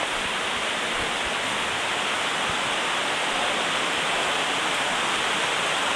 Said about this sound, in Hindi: बहुत तेज़ बारिश होता।